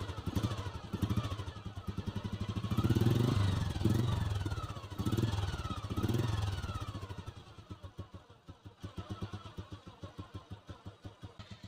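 An old Royal Enfield Bullet petrol motorcycle starts and settles into a close, steady idle, its single-cylinder thump repeating in an even, loping beat that swells and eases.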